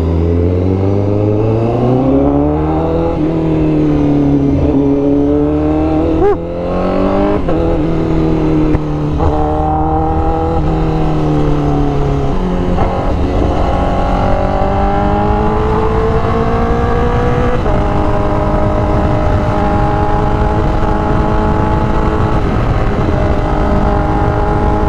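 A Honda CBR1000RR-R Fireblade SP motorcycle engine under way in third gear, loud and near, with its pitch rising and falling as the throttle changes and wind rushing steadily behind it.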